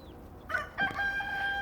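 A rooster crows once on a smoky morning in a garden, its call rising then holding steady, fairly close and clear over a quiet background.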